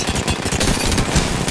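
Rapid automatic gunfire in the Apex Legends battle royale game, dense bursts of close shots crackling continuously and loudly with no pauses.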